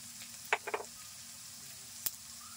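Crushed garlic lands in onions frying in oil, bringing a steady sizzle and a few quick scraping stirs, with one sharp clack near the end and no talking.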